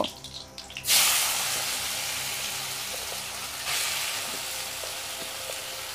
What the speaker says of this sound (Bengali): দিয়ে এবার থেঁতো করা কাঁচা আমটা এই তেলের মধ্যে আমি দিয়ে দেব